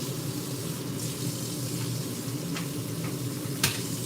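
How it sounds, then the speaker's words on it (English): Hot water running steadily from a kitchen sink tap, a continuous rushing flow with a few small clinks and splashes near the end, with no talking. "I haven't even run my hot water."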